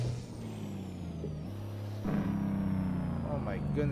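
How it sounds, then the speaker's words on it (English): A Cummins truck engine in American Truck Simulator drones low and steady, then rises in pitch and loudness as it revs harder, with a hiss near the end. "Make use of that Cummins engine"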